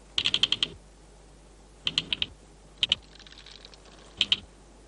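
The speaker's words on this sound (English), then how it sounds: "the soldiers sound their clicking alarm by beating their heads on the ground." Termite soldiers beating their heads on the ground in a clay mound, sounding an alarm as bursts of rapid dry clicks, four quick rattling volleys separated by short pauses, close and crisp.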